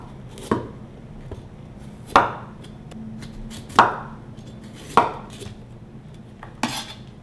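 Knife chopping down through eggplant on a cutting board, five sharp, distinct chops at roughly even intervals, close and clear with little else around.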